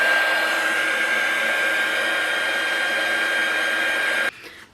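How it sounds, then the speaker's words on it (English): Hair dryer drying watercolour paint on a handmade Valentine's card, blowing with a steady, loud, close whir for about four seconds before switching off abruptly. "What I might do is pop the dryer on it"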